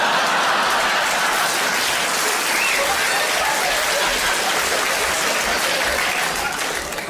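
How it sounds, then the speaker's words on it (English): A comedy show audience applauds, a loud, dense wash of clapping that holds steady for several seconds and thins slightly at the end. "I don't quite know what that round of applause was for"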